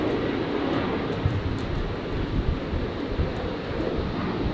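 An airliner takes off from Brisbane Airport on a stormy night, a loud, sustained rumbling roar with gusts of wind buffeting the microphone.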